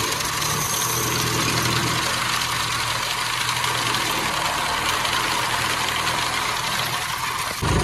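A farm tractor idles steadily, its engine a constant low rumble with a faint knocking vibration, close and loud, running alone without talk for several seconds.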